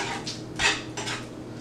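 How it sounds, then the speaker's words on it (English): A stainless steel spoon stirs butter into Chicken Marsala sauce in a pan, giving a few short scraping and clinking strokes, close and moderately loud, with no talking. "So just mix it around with the butter."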